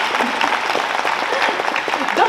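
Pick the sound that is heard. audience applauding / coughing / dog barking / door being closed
audience applauding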